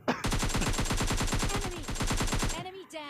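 Automatic gunfire in the mobile shooter game PUBG Mobile Lite, a loud rapid burst of evenly spaced shots running for over two seconds before stopping abruptly.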